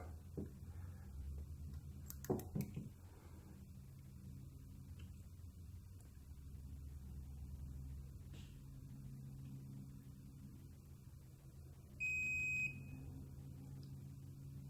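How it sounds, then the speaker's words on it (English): A digital torque wrench gives a short electronic beep once near the end, tightening chainring bolts to about 5 newton meters, over a quiet background, after a few faint clicks and metallic taps. "it'll give an audio beep as I'm tightening the bolts down"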